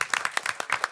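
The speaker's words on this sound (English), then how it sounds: "I think we should give him a round of applause for being in town." A small group at a village board of trustees meeting gives a brief round of applause, roughly a dozen distinct, close hand claps in quick, uneven succession.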